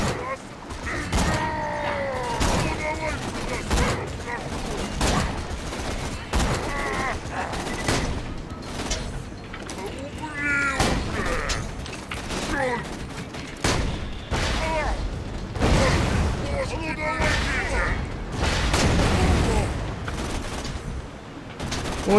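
Gunfire in the shooter game Borderlands 2, dense bursts of shots and blasts rattling almost continuously under a player's frequent talk.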